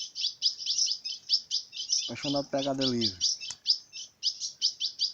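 A large ultramarine grosbeak (azulão) sings, its rapid chirping notes repeating steadily and close by the whole time, while someone speaks briefly over the song.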